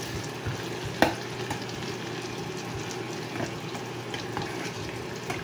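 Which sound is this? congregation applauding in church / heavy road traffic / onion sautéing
onion sautéing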